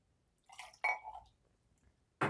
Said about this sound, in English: if I was to pour this water in this glass, it's just doing what it's supposed to